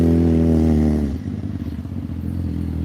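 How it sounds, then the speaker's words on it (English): Loud motorcycle roaring past on a Washington, DC street, a strong harmonic engine drone that drops in pitch and then gives way to rougher rumbling traffic noise, with no talk. "Probably very loud motorcycle."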